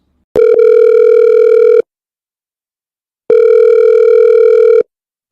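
Two long, loud electronic telephone ringback tones, each about a second and a half, separated by silence.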